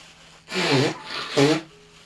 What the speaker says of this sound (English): I just got to blow my nose